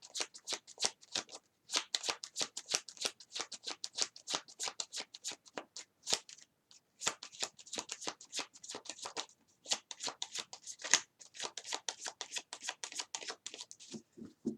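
Tarot cards being shuffled by hand, close and fairly quiet, in repeated quick riffling bursts with short pauses between them.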